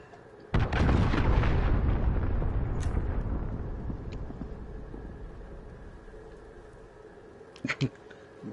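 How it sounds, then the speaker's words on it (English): A cruise missile strike in Call of Duty on PS5 erupts as one sudden, loud, close blast with heavy rumbling that slowly fades over several seconds, followed near the end by a couple of short, sharp pops. "Allied cruise missile away."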